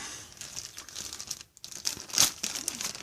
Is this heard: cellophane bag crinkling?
yes